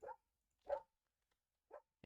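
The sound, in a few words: dog barking in the background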